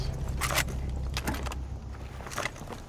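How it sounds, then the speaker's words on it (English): A gun being reloaded in Rainbow Six Siege on the Bartlett U map, heard as several crisp metallic clicks and rattles of magazine and action up close, spread over a few seconds against steady background noise. "I don't know why I'm reloading again"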